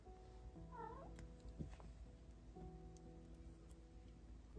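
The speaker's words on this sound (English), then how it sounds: "I'm sure you just heard my cat" A pet cat sitting on a lap meows a couple of short, quiet cries against a soft, faint room background.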